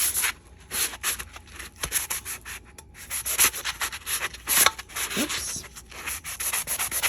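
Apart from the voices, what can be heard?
sanding a tumbler surface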